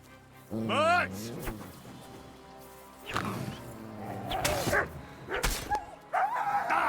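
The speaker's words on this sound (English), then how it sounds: "That was my dog, I'm sorry, Mutt." A dog barks and yips in a few scattered bursts, mixed with whimpers and a crash, with a person talking over the sounds.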